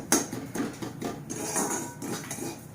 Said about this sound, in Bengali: সুজিটা হালকা করে ভাজবো, যাতে ঘিয়ের কাঁচা গন্ধ বা সুজির কাঁচা গন্ধটা চলে যায়